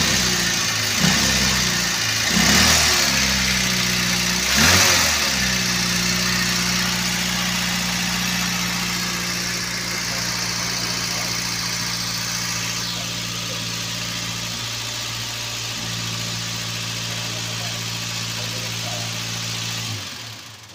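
A misfiring Toyota Avanza engine idles roughly for about twenty seconds, with a low steady drone broken by a few uneven stumbles and shudders early on.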